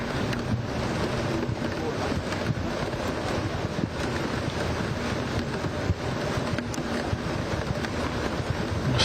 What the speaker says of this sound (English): We're still playing through the rain at the moment.